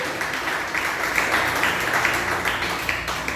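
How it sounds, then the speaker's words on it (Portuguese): Church congregation applauding during a sermon, a steady wash of many hands clapping that fills the space and carries on without pause. "Aplaude o Senhor."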